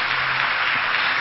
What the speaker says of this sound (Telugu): నమ్ముతున్నవారు గట్టిగా చప్పట్లు కొట్టండి